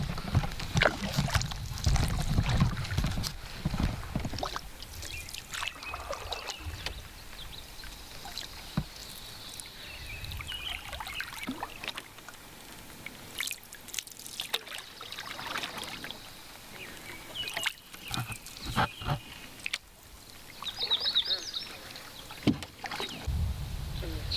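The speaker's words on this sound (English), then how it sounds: "So we're paddling along here." A canoe paddled on a lake in Algonquin Park, with scattered paddle dips, splashes and trickles of water coming and going around the hull, fairly close and at moderate volume.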